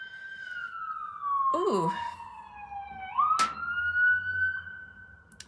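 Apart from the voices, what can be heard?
sirens going by outside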